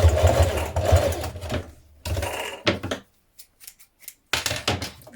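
A sewing machine bastes down the folded edges of a backpack strap looped through a rectangular ring, running in short close bursts with stops and a few clicks and handling noises between them.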